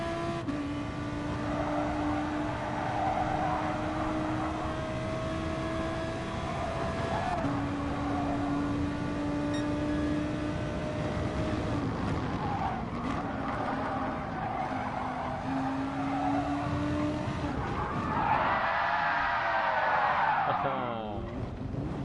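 A race car in a video game brakes and skids on the Ring track, with engine drone and repeated tyre squeals across the run and a louder skid near the end, no talk.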